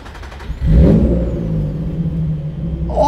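A race car's engine fires up after a keyless start and revs hard, a loud, close mid-range roar that swells within the first second and holds a steady growl, with a brief sharper burst near the end.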